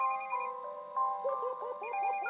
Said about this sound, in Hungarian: Jó, hogy közben csörögezett.